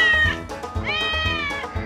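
Kittens meow in a steady run of drawn-out, high, whiny cries, loud and close, one after another with barely a pause and no talking over them.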